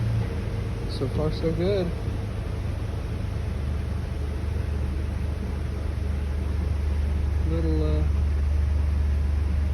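A Jeep Wrangler TJ 4.0 engine idles after a throttle body cleaning, a steady low hum with a faint hiss underneath, while someone speaks briefly twice over it.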